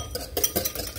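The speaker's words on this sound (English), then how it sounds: "And mix this up well." Chow mein sauce mixed with sweet chili sauce, stirred briefly in a bowl with a utensil, a few soft close scraping and clinking strokes over a steady low background.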